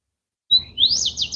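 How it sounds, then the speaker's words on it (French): Birdsong played as a tribute during a live stream: a short burst of bright chirps and quick rising warbles begins after a moment of silence, clear and close over a faint low hum. "Le chant d'oiseau, c'est pour saler Brigitte Bardot et son combat pour les animaux"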